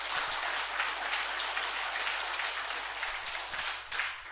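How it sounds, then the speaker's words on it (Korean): A church congregation claps during a Sunday worship service, a dense, distant-sounding patter of applause over a low steady hum, fading briefly near the end. "찬송의 영광의 박수 한번 드리겠습니다."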